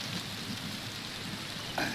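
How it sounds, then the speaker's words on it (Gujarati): Steady rain falling outdoors in a garden in Chalala, Gujarat, during an unseasonal storm, a continuous dense hiss of drops with a brief louder splash near the end. "હવે હું તમને પૂરો બગીચો તો નહીં બતાવી શકું, કેમ કે વરસાદ ચાલુ થઈ ગયો છે"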